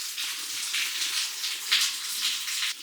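Rainwater pours steadily where guttering is missing on a building in the Scottish Highlands in winter, a continuous hissing gush close by with slight surges and no voices.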